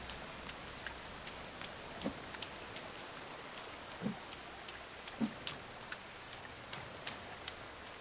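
Steady rain falls in the survival video game The Forest, a constant soft hiss with scattered ticking drops and a few faint thuds, heard with no voices.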